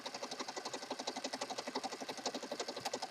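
A sewing machine runs steadily, stitching around the edge of a handmade peacock-themed journal. Its needle beats in a fast, even rhythm, close and continuous throughout, with no voices.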